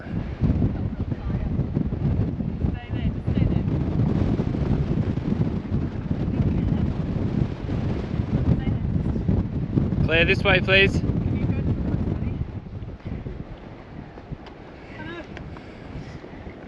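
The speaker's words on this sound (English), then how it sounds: "It's very windy." Strong wind at Coral's Lookout, Kings Canyon, Australia, roars and buffets the microphone almost continuously, easing near the end, while a person speaks briefly over it.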